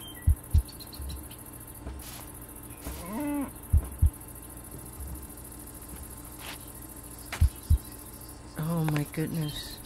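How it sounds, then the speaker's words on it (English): A Minecraft cow lets out two low, drawn-out moos, one near the middle and one near the end, over faint insect-like ambience and a few soft thuds. "Oh my god, the poor cow is just out there."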